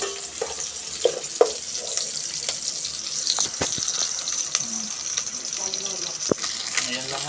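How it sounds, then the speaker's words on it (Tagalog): Ingredients for chicken feet tinola sizzle softly in a pan over a small stove, a steady close hiss with scattered clinks and stirring taps, and a voice talking faintly in the background. "ginigisa na natin. Para mabango yung aroma niya."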